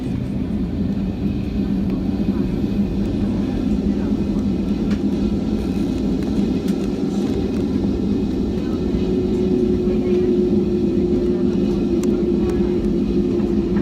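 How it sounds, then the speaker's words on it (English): An Icelandair Boeing 757-223 with winglets starts its jet engine before departure from London Gatwick, giving a loud, steady low rumble and whine that holds throughout, with a slightly rising tone late on and no talk. "So our engine's starting up."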